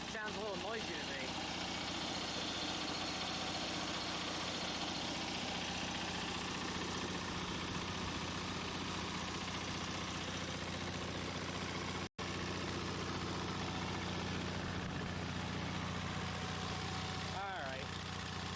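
Engine generator idling while driving a load bank, a steady, droning mechanical hum with a low rumble that holds evenly throughout, interrupted only by a momentary dropout.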